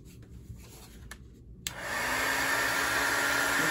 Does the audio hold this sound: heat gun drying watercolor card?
yes